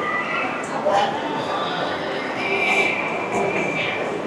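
An elevated train runs around an Aeon Mall shopping center, giving a steady rolling rumble with faint squeals, under the busy crowd noise and voices of the mall.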